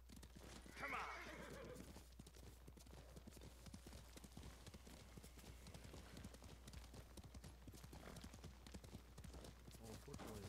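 A horse in a samurai video game gallops with rapid rhythmic hoofbeats and lets out a whinny near the start, quiet overall, with someone talking over the action.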